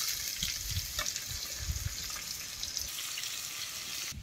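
Long-sliced onion hitting hot oil with cumin seeds, a continuous close sizzle with light crackles and soft stirring taps over a few seconds.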